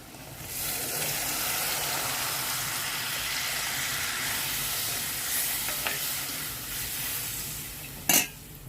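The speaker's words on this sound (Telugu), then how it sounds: "కారం అన్నీ నూనెలో ఫ్రై అయిపోయినాయండి వాటర్ వేస్తున్నాను ఇప్పుడు" Water poured into oil with fried chili powder, a loud steady sizzle and hiss that runs evenly before a sharp clatter near the end, with no talking.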